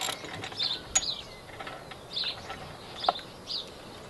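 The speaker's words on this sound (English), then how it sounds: "First of all, remove the spark plug." A spark plug is worked loose from the cylinder of a paramotor engine with a ratcheting tool, giving sparse, quiet mechanical clicks and short metallic rasps spread over a few seconds, with no talking.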